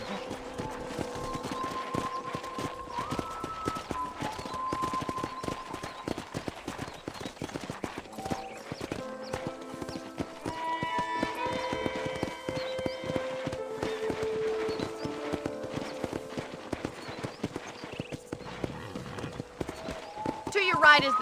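Rapid hoofbeats of a galloping horse in the video game Red Dead Redemption pound steadily over a bed of music, with voices present in the mix.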